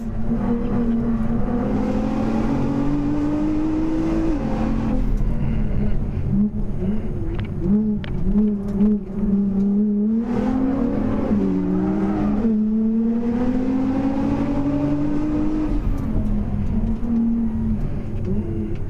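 A race car's engine revs hard at a Hampton Downs racetrack shakedown for the 2010 Targa NZ event, heard close and loud, with its pitch climbing and dropping steadily through gear changes.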